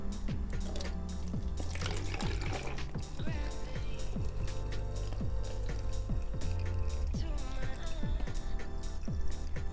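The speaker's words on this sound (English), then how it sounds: "And then we'll pour the water in." Water poured into a jar holding houseplant cuttings, a continuous splashing, trickling stream with bubbly drips, close and fairly steady for the whole stretch.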